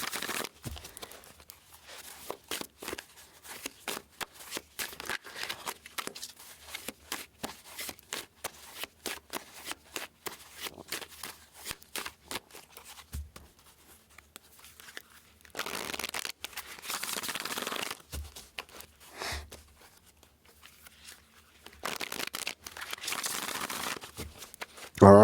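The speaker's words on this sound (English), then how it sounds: "shuffle and cleanse the energies of the deck" A deck of tarot cards is shuffled by hand in a quiet room, giving rapid crisp riffles and flicks in uneven bursts with brief pauses, close and fairly loud throughout, with no voices.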